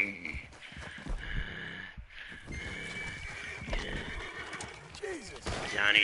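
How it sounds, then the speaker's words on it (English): A horse whinnies with a rising, shrill cry near the end, amid hoof clops and background movement, with voices talking faintly. "Horses. That not Johnny horse."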